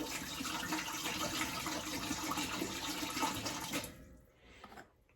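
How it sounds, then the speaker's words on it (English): Water pours steadily from a gallon jug into a pot, a continuous splashing gush for several seconds that abruptly stops, leaving faint drips and settling; no talking. "we're going to take this gallon and we're going to pour 1/4 of the gallon"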